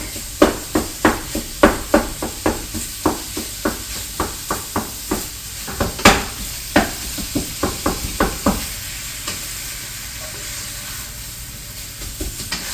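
A spatula breaks up cornbread stuffing in a pan, striking and scraping in a regular series of sharp taps over soft sizzling, close and fairly loud, with no voices.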